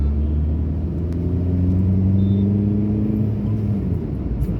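Car engine during a driving lesson, shifting up through the gears, a loud, close, steady rumble from inside the cabin with a low drone and slight pitch rises as the engine is revved.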